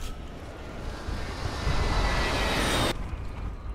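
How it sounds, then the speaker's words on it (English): A helicopter in the multiplayer shooter Frontlines: Fuel of War makes a dense, steady roar of engine and rotor noise. It swells louder toward the end and then cuts off abruptly, with no speech. "There's a chopper right there too."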